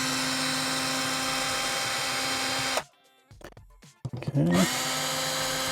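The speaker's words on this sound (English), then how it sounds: "we got to take these original screws out of this outlet." A power drill whirs loudly and steadily as it backs original screws out of an outdoor electrical outlet, cutting off midway before a short burst of spinning resumes; a person briefly speaks.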